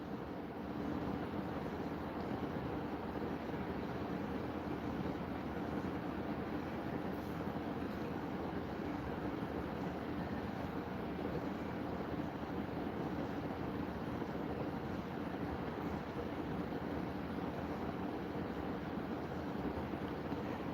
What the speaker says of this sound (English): Now these fans right here, 120 millimeters